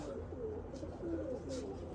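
Pigeons settled on a loft give soft, low repeated coos, close and gentle against a quiet background.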